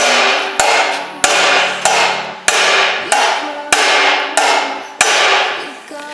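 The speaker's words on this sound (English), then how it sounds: "the answer is resoundingly a hammer and a bigger hammer" Repeated heavy hammer blows strike metal around an engine oil pan during an LS swap, about ten sharp clanging hits at a steady rhythm, each ringing and decaying before the next, loud and close with no talking.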